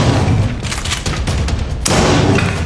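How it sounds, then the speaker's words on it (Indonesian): Gunfire in a scene from the crime drama, with a dense burst of loud shots and booms lasting the whole moment, a sharp crack near the end, and no talk. "Agent Keen dan Reddington tidak terkena tembakan itu"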